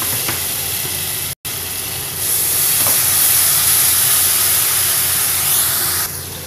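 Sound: onions frying as ground tomatoes are added

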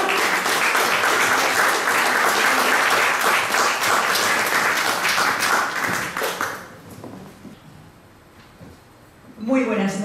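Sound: audience applause for poet at recital

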